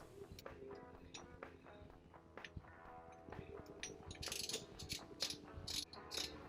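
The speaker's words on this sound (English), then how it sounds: "Now to torque the nut using a torque wrench and a 30mm socket." Torque wrench with a deep 30mm socket tightening the rear flange nut on a Toyota 4x4 transfer case, giving a run of close, clicking ratchet rattles that grow sharper and louder toward the end, with no talk.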